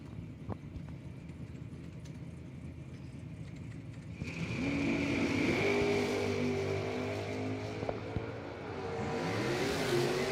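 A 1969 Camaro and a box-body Chevy Nova at a bracket drag race idle quietly before their engines burst into a loud, rising roar. The racket holds steady and seems fairly distant, and nobody speaks over it.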